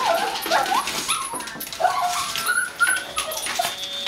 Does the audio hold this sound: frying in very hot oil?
no